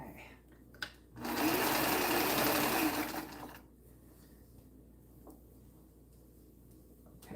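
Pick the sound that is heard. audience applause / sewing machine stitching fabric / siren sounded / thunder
sewing machine stitching fabric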